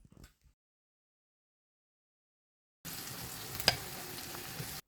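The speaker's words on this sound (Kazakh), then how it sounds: "Табаға 3-4 ас қасық өсімдік майын құйып, май қызғаннан кейін пиязды салып қуырып бастаймыз" Chopped onions fry in hot vegetable oil in a pan, a soft sizzle that begins after a long silence and continues steadily with one brief clink.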